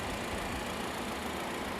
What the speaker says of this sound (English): the engine, okay, is a 2-liter engine, 4-cylinder. It's a twin power turbo